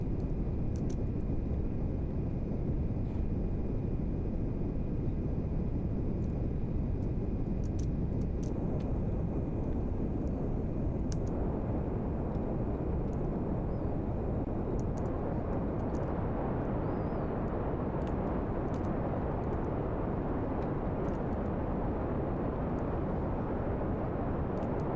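Kerbal Space Program rocket engine thrust roars as a continuous, steady broadband rumble that stays loud and unbroken throughout, with faint high interface beeps and no talking.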